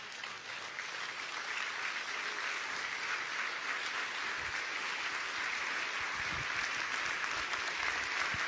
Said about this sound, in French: Est-ce que quelqu'un peut m'aider à acclamer les seigneurs?